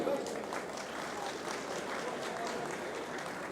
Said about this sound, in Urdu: تو میں چاہوں گا کہ آپ سب اپنے لیے خود تالیاں بجائیں